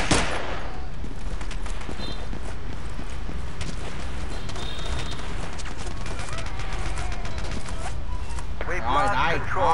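Rifle gunfire rattles in Battlefield 2, repeated shots over a busy battlefield soundscape, with someone talking over much of the clip.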